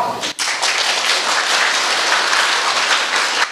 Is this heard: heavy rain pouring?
no